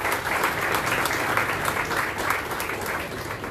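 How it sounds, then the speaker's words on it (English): Steady, dense applause from an audience at a jersey unveiling event for the Dempo Challengers keeps a fairly even level throughout, with no voices over it. "Can we give all three of them a round of applause,"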